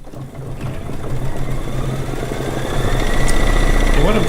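A sewing machine stitching out a quilt block, its motor humming steadily and growing slightly louder and busier toward the end, with a voice talking faintly over it.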